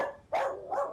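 A human voice imitates a very small sled dog barking in the distance with two quick, high yips, the second softer and drawn out.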